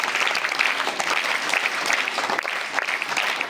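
Sustained audience applause for school prize winners at a student parliament inauguration, dense and steady clapping from a crowd lasting throughout without a break.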